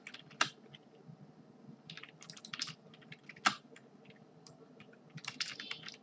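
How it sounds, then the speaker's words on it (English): Fingers type on a computer keyboard in uneven bursts of quick clicks with short pauses between, close by and fairly quiet, a couple of harder key strikes standing out. "Here I will be typing in each variable"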